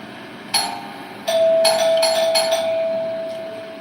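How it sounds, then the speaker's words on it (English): A doorbell chimes, with sharp metallic strikes followed by a sustained ringing tone that slowly fades, clear and alone. "you're the one that wanted the doorbell, Foodie"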